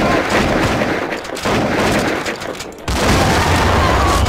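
Booming blasts and rumbling gunfire-like bursts in the Tibet-set shooter game Grom, loud and dense throughout, with a deep low-end surge near the end.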